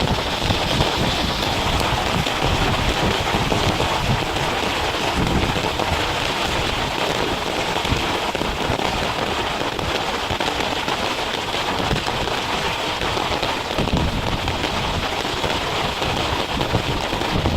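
Steady heavy rain pouring down continuously during a live fish catch, a dense hiss of drops on surfaces with no voices.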